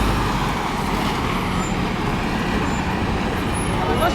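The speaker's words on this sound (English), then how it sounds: "Lots of tour buses going by." Busy London traffic with tour buses rolling past near the Houses of Parliament, a steady broadband rumble of engines and tyres filling the whole stretch, close and continuous, with faint voices in the background.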